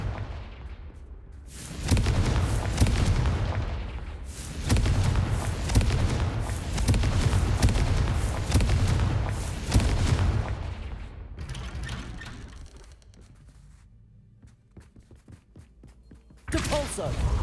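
Heavy booming blasts from the Confringo spell in the game Hogwarts Legacy erupt in bursts, with rumbling explosions swelling and fading over several seconds before dying down, then a final burst.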